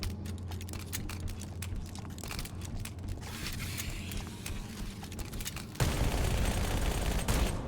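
Rapid SMG fire in Halo: Campaign Evolved rattles in dense bursts of sharp clicks over a steady low game hum, turning louder and more continuous near the end.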